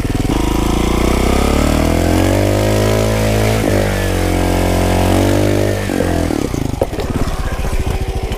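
A trial motorcycle on a southern off-road riding outing revs at full throttle, loud and close, its engine note climbing and wavering continuously, then breaking into choppy bursts toward the end.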